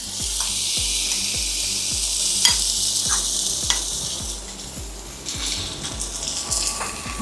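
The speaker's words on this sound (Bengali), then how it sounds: "তেলের উপর কড়াইশুঁটিটা দিয়ে দেবো।" Green peas dropped into hot oil sizzle steadily in a pan while being cooked for a Holi pea chop, with a regular series of soft stirring scrapes and taps across the whole stretch, close and fairly loud.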